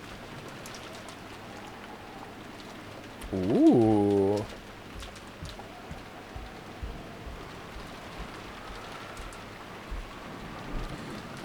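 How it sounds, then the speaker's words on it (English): Steady rain falling in a garden, a soft continuous patter throughout, broken near the start by a single drawn-out spoken exclamation. "disappeared beneath the sound of the rain"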